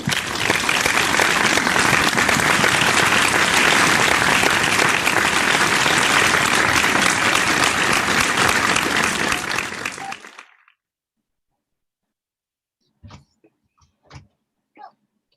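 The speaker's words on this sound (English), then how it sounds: "please extend our virtual applause to our guest speaker, Ms. Michelle Gao." Applause for a guest speaker at an online computing-careers event rolls on loud and even for about ten seconds, then stops abruptly, leaving near silence broken by a few faint clicks.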